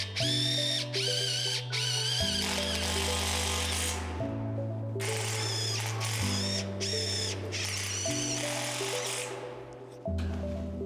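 A power tool fastens continuous bottom chord bridging to composite joists, running in long loud bursts of a pulsing mechanical whine with brief stops between them.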